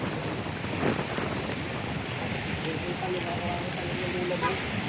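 Strong sea waves surge and wash continuously at San Nicholas, Batangas, a broad churning roar mixed with wind buffeting the microphone, fairly faint overall.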